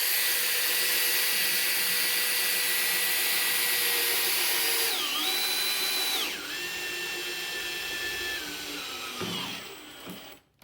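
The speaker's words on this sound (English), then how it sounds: "with these wood screws, you just screw into that and that gives you plenty of strength" A power drill drives wood screws into a hardwood timber dowel, its high whine holding steady, then dipping and rising in pitch as the screw bites, before winding down and stopping abruptly.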